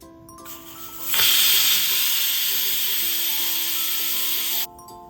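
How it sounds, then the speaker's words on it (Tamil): A pressure cooker of vegetable coconut milk rice on high flame releases a loud, steady steam hiss that bursts in sharply and holds for several seconds before cutting off abruptly, with quiet kitchen background before and after. "2 விசில் விட்டுருவோம் ஹை ஃப்ளேமில் வச்சு."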